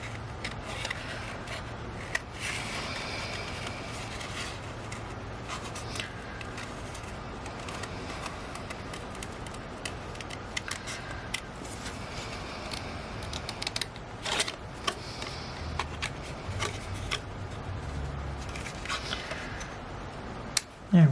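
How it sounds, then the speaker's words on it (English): Paper snips cutting out a paper dragonfly shape for a handmade card, giving a steady run of soft, close snipping and rustling with occasional sharper clicks and no voices. "I'm just going to quickly cut it out."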